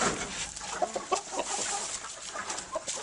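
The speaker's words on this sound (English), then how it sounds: "I have my hens and roosters in here." Hens and roosters in a coop, including a barred rock and Rhode Island red Polish silky crosses, cluck and squawk in short scattered bursts over a busy hiss.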